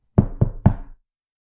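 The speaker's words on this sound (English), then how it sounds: "there was a knock at the door." Three firm knocks on a door, evenly spaced and close, loud and sharp against total silence.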